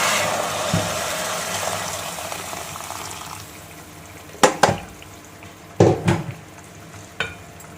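Hot water poured into a pot of fried onions while making ghee rice sets off a hissing sizzle that fades, followed by a few sharp metal clanks from utensils against the pot.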